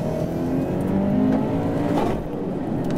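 A turbocharged Subaru BRZ race car with around 300 horsepower accelerates around the TC1000 circuit, its engine note rising steadily from inside the car, loud and continuous with no talking.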